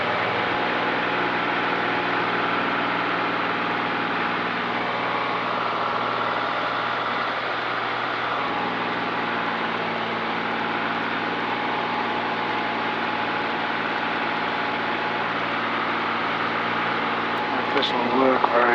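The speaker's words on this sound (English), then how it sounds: "request start up, 1 engine and stand please" An aircraft engine runs at a steady idle in a light-aircraft cockpit, an even low droning hum with a layer of broadband noise that stays constant throughout, with a brief sharper sound near the end.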